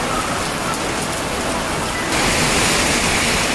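Downpour during the year's heaviest rainstorm in Osaka, heard from a balcony as a loud continuous hiss of rain that grows brighter and stronger partway through.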